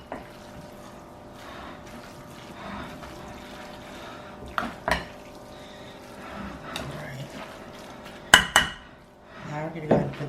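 Enchilada sauce stirred in a pot with a ladle for pork enchiladas, giving scattered metallic clinks and scrapes of utensil against cookware, with a few sharper knocks near the end over a quiet kitchen background.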